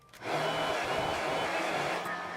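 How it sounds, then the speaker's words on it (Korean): A hair dryer blowing hot air to erase heat-pen sketch lines on a hand-embroidered name tag, switching on and then running as a steady close whir for about two seconds. "저는 열펜을 이용해서 그렸기 때문에 드라이기 열로 선을 지웠어요."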